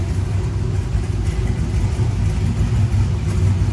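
Ram 1500 pickup with DynoMax Race Bullet mufflers revving while parked, a deep, loud, rumbling exhaust drone held steady at high revs, close to the listener with no talking.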